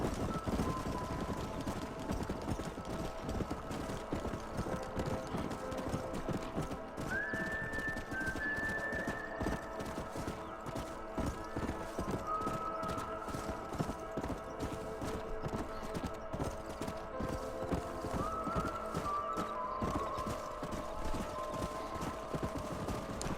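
Horses in the video game Red Dead Redemption gallop with a steady, rapid clip-clop of hooves, punctuated by a couple of shrill neighs, all moderately distant and continuous across the scene.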